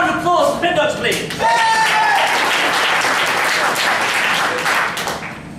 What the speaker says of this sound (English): a round of applause for Spin Doctor, please.